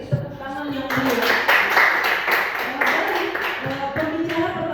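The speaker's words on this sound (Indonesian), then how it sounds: "Beri tepuk tangan yang mulia." Applause from an audience at a school debate competition, a dense, steady patter of many hands running for several seconds after talk at the start, with voices mixed in underneath.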